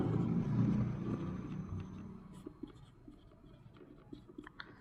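Writing on a board while working a trigonometry maths problem: faint, close scratching strokes and small tapping clicks, a low rumble behind them and no talk.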